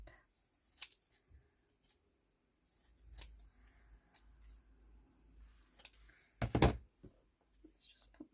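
Scissors snip paper for a junk journal in a few short, crisp cuts, close by and quiet, with soft handling knocks between them.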